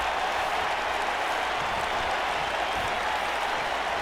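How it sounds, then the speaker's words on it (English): Crowd clapping in a wrestling video game, a steady broadband wash of applause that stays even and fairly loud for the whole stretch, with no distinct individual claps standing out. "the crowd clapping for that"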